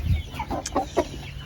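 Egg-laying hens on a homestead cluck softly nearby, a few short throaty calls in quick succession over faint background noise.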